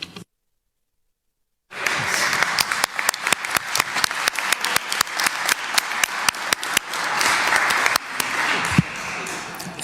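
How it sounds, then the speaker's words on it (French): Audience applause in a council chamber: after a brief silence, dense rapid clapping from many hands fills the room and carries on steadily to the end, with no talk over it. "C'est difficile d'intervenir après de tels applaudissements"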